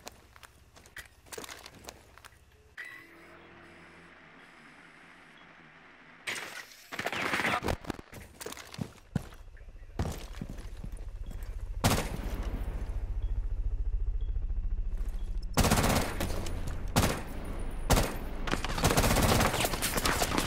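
Silenced weapon fire in a 2v2 online shooter match, including a P90, comes in irregular bursts of muffled shots and clattering footsteps that grow denser and louder toward the end after a quiet stretch.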